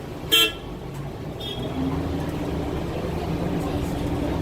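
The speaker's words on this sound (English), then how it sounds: "Honking your horn as you're passing them." A New York City MTA transit bus gives one short, loud horn toot while passing, followed by a steady low engine and road rumble as it drives on.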